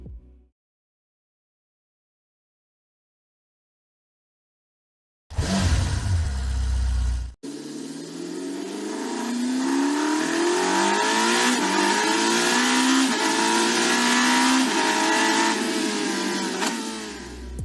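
After a few seconds of silence, a 2026 Testarossa sports car engine barks loudly, cuts off, then revs hard and sustained to about 8,300 rpm with a rising, roaring whine.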